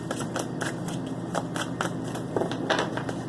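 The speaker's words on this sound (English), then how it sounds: "Let me finish giving these a nice shuffle again." Tarot cards are shuffled by hand in a steady run of soft, crisp riffling bursts, each brief flutter repeating about every quarter second against a low room hum, with no voices.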